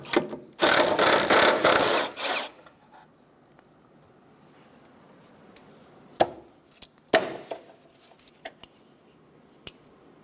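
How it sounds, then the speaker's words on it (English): Plastic wiring harness clips for the wiper motor pried off the metal cowl of a 2007-2012 Nissan Altima: a loud burst of rubbing and scraping at first, then a few sharp, isolated clicks and snaps spaced through otherwise quiet moments. "Now we're going to remove the 2 harness clips for the wiper motor off of this metal cowl."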